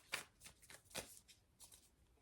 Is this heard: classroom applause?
no